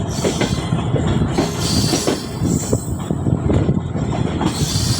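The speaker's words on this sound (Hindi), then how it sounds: "कराची एक्सप्रेस डिपार्ट कर रही है खानेवाल से, और 35 भी डिपार्ट कर रही है खानेवाल से।" Karachi Express train pulling out of Khanewal station in Pakistan, a steady loud rumble of railcars with rhythmic wheel clatter and intermittent metallic squeals, continuous and close throughout, no voices.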